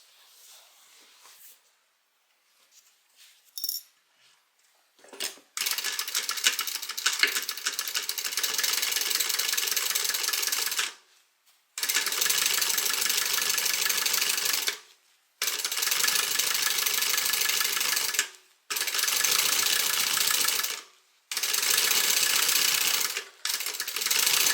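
A sewing machine top-stitches a bag lining in several steady bursts of rapid mechanical stitching, each run lasting a few seconds and broken by short pauses, close and fairly loud.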